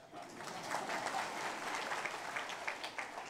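A seated crowd at a devotional sermon gives a steady round of clapping, moderately loud and continuous, with a few louder individual claps near the end.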